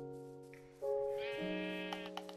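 A sheep in the Minecraft video game gives one long, wavering bleat, loud and close, over faint background game sounds.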